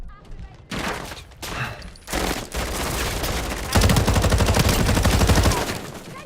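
Heavy gunfire in Call of Duty Modern Warfare multiplayer: sporadic loud shots, then a sustained rapid automatic burst for the last few seconds, close and dense, with game voice callouts mixed in.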